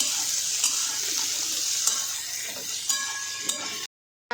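Green peas roasting in a pan for a spring roll samosa filling give a steady hissing sizzle with a few light scrapes and taps, close and even, then stop abruptly into silence.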